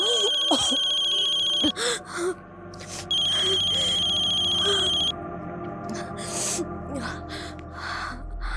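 A mobile phone ringtone rings in repeated electronic bursts, loud and near, with breaths and short spoken exclamations between and over the rings.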